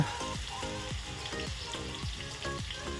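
Onions frying in oil in a pan for mandakki usli tempering, a steady close sizzle with regular stirring strokes sweeping through it.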